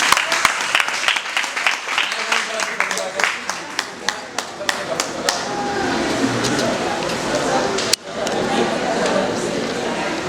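A crowd at a child's 12th birthday party breaks into clapping: rapid, sharp, scattered hand claps at first that swell into sustained applause with voices talking and cheering underneath.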